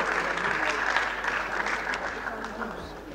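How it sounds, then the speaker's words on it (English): A lecture audience bursts into applause, a dense steady wash of many hands clapping that holds for a few seconds and then begins to thin out. "Let's give her a round of applause."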